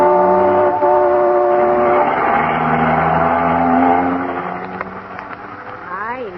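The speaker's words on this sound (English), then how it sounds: "Isn't he driving awfully fast" A car engine roars as it drives fast in an old-time radio comedy sound effect, a loud, sustained droning note that fades and dips toward the end.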